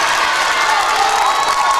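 Crowd applause with some cheering at a high school basketball tournament game, a steady broadband roar lasting the whole moment without pause.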